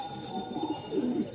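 A pair of full black pigeons, male and female, gives a soft, low cooing that murmurs steadily over a faint hum of surrounding noise.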